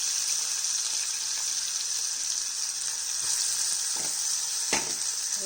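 Cinnamon and cloves fry in hot oil in a pan as the base for a stuffed tomato curry, giving a steady close sizzle with a few soft clinks from stirring and no voices.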